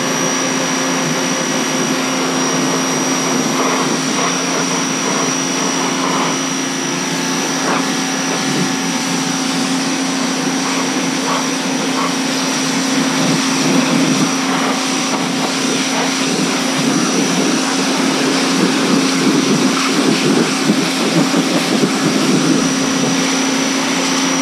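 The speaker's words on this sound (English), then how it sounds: "that's why you wanna use the pressure washer, really get it" Pressure washer fitted with a 25 degree nozzle blasting mud off an ATV, a loud continuous high-pitched motor whine with hissing spray, steady and close for the whole stretch.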